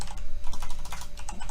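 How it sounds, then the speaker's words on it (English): Computer keyboard typing, a steady run of quick clicky keystrokes close to the microphone with no talking. "Sorry, I'm hearing some feedback. It's me typing."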